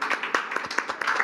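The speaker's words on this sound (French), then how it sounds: "on l'applaudit" Studio audience clapping on a French live show, a short burst of fairly close, uneven hand claps with crowd noise, no speech over it.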